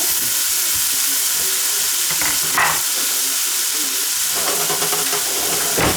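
Freshly foraged wild mushrooms frying in a pan, a steady close sizzle and hiss with occasional stirring scrapes and brief bursts of steam throughout.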